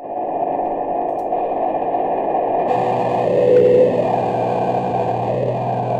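Electric guitar run through an effects pedal, a heavily processed, distorted tone that imitates a voice, sustained and warbling with a brief swell midway.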